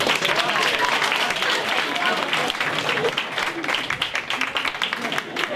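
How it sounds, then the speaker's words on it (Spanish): Crowd applause and cheering fill a carnival (Entroido 2019) talent-show stage event, dense and steady for several seconds with voices mixed into the clapping. "Un aplauso, por favor"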